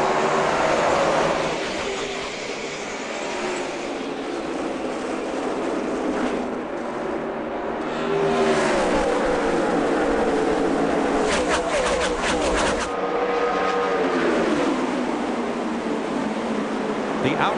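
NASCAR stock cars racing under green at Dover in the 2010 Autism Speaks 400, a continuous loud roar of engines with rising and falling pitch sweeps as cars pass, under excited commentary.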